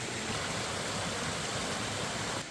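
A small creek flows through a steep valley of tussock grassland, a steady close rush of water with an even hiss and no talk over it.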